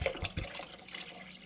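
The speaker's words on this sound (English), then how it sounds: "And then I fill the bottle up, maybe half to two-thirds with water, shake it around" Water runs into a bottle being filled about half to two-thirds full while making soup, a short splashy gurgle with a few quick pulses at the start, then a steady, softer rush, no voices.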